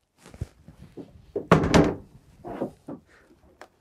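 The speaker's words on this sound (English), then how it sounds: "The doors are easily locked." Doors of a farm chemical storage cabinet swing shut and are locked, a series of close thuds and knocks with a louder metallic clatter midway, then lighter clicks and taps, no talking.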